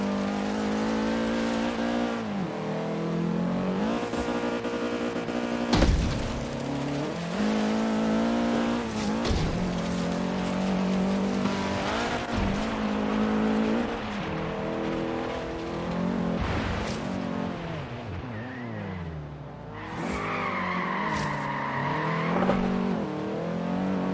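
A Mercedes C63 AMG in Forza Horizon 3 growls through shifting revs and roars, with tires squealing into a handbrake skid, the engine loud and continuous throughout.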